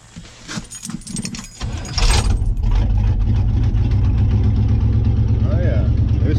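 Keys jangle, then a 1977 Chevy squarebody engine cranks and catches at close range, settling into a loud steady idle with its belts squealing in a few high chirps.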